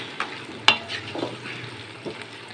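Boiled mixed vegetables being stirred together in a pan, with a few soft scraping and clinking strokes and one sharp utensil knock against the pan, no voices.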